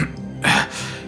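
A narrator voices a short throat-clearing cough, imitating a character clearing his throat as if he had swallowed a fly; one brief harsh burst stands alone in the quiet.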